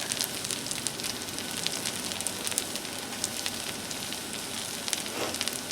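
Bacon and sausage sizzle on a hot outdoor Blackstone griddle with a steady, fairly soft crackle and frequent small pops, and no one speaks.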